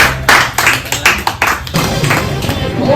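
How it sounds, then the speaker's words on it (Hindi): Studio audience applause on the Hindi game show Kaun Banega Crorepati, loud claps in short bursts over the first half, then a steadier wash mixed with voices and background music. "जोरदार तालियां"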